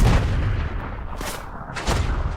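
Artillery fire in the war strategy video game Total Tank Generals, a steady rumbling barrage of booms and blasts with a few sharper cracks rising above the continuous low roar.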